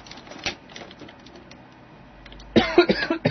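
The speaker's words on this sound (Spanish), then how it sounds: "Perdón por la tos." A single cough stands out early, followed later by a louder burst of harsh, rough sounds.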